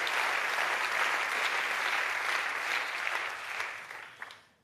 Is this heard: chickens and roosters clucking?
no